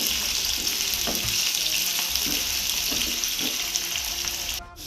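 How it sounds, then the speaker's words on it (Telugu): Onions sizzle loudly and steadily in hot oil in a pan for dum biryani, a constant bright crackle up close, with a few soft stirring scrapes and no talk. "ఇప్పుడు మనం ఆనియన్స్ని ఫ్రై చేసుకుందాం."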